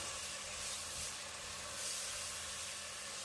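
Steady broadband hiss of steam escaping from a pressure cooker cooking chicken, continuous and fairly loud, with a faint low rumble underneath and no voices.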